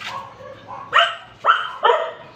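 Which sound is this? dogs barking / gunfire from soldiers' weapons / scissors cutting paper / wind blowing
dogs barking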